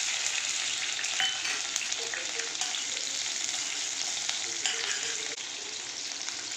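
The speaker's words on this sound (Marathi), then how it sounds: "इथे तेल तापलेलं आहे. आता टाकते हिरवी मिरची." Green chilies fry in hot oil in a pan, making a dense, loud, continuous sizzle that stays close and steady throughout with no talking.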